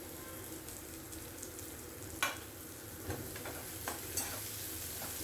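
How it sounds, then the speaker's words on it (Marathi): Finely chopped onion sautés in hot oil with green chillies for a methi and moong dal sabzi, giving a steady close sizzle broken by a few sharp spatula scrapes and stirring clatters, with no talk. "कांदा देखील तेलात आपण परतून घेऊयात."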